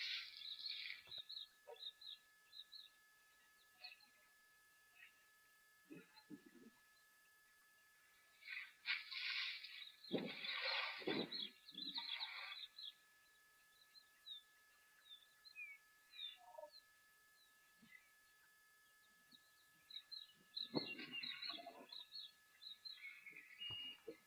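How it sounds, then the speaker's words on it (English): Faint, high, rapid trilling calls of a long-billed crombec come in scattered bursts from a distance, with quiet gaps between them in an otherwise still outdoor setting at a waterhole. "That little bird call there sounds to me like it could be a long-billed crombeck."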